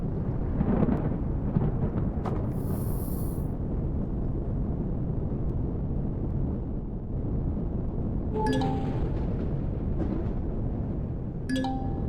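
Steady rain pours in a sci-fi survival game set in Reforged Eden, a dense continuous hiss with a low rumbling thunder undertone and a few sharp metallic clinks from the game near the end.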